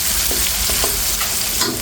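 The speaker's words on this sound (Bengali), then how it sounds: "মশলার ভিতরে হালকা পেঁয়াজটা একটু ভেজে নেব" Onions fry lightly in spices in a pan, making a loud, steady sizzle with soft rhythmic stirring scrapes throughout the short stretch.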